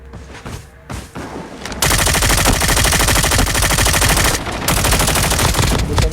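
Rapid automatic gunfire in Call of Duty Mobile battle royale: after a quieter opening with scattered shots, a loud, sustained burst of dense machine-gun fire runs for several seconds, dips briefly, then resumes.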